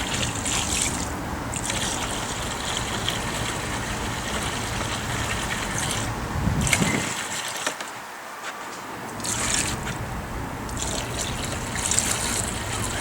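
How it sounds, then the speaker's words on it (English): Water pours steadily into a homemade heated car parts cleaner tank, a continuous splashing trickle with a short lull midway before the flow resumes. "And the rest, I'm going to just add water"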